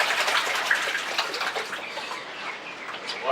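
Water sloshing and washing gravel and black sand around a gold pan, a continuous splashing gush with small rhythmic waves.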